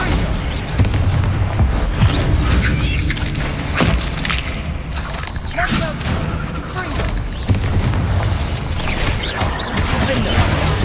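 Bombarda spells burst in combat in Hogwarts Legacy, several heavy thumping explosions spread across the stretch, mixed with crashes and other game effects under voices talking.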